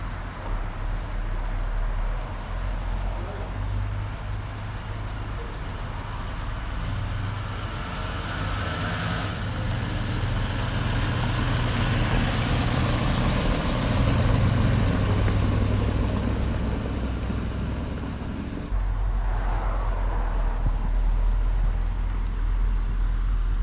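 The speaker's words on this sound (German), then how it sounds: "Wir fahren jetzt noch ein bisschen mit diesen wirklich schönen Wagen" A dark blue 1970 Mercedes 280 SE 3.5 Coupé in original condition driving steadily, a continuous low engine and road rumble heard from inside the car, with one brief shift in tone partway through.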